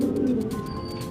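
A bandangan bird, a pigeon-type bird, gives a short, soft, low cooing call as it returns, close by and alone with no voices.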